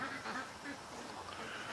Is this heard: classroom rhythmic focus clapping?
no